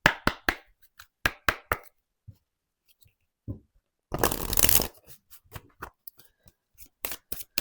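Tarot cards being shuffled for a love reading: close, crisp riffles and taps in quick bursts, with one longer continuous shuffle in the middle and quiet gaps between.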